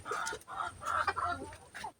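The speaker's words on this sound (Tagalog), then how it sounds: "So at matatakaw yung ating tandang." Several roosters held in a range cluck and squawk close by in quick, uneven bursts over a short stretch, with no talking.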